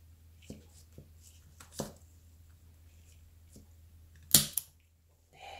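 Scissors snip a Bangul Bokrang succulent stem to pinch off its growing tip. A few faint soft clicks and handling sounds are followed by one sharp close snip and a quick second click, in a quiet room with no talking.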